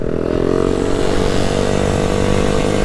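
A KTM 200 motorcycle engine running loud and steady up close, a continuous buzzing drone at sustained high revs with no pauses.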